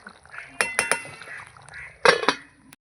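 Metal lid set onto a cooking pot of fish curry with coriander leaves, giving a few sharp clinks and clatters in two short bursts, close by and fairly loud.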